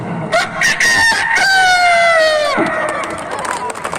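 At a stage show, a performer's voice imitates a rooster crowing: one loud, close, drawn-out call that rises and then slides down, with a short lead-in before it.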